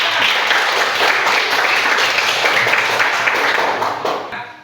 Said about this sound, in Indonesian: berikan aplaus untuk kelompok 1